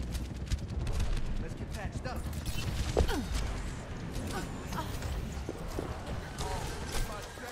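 Gunfire in the video game Overwatch, with dense rapid shots and clattering battle noise running throughout under steady overlapping voice chat, and a few sharper cracks standing out in the middle.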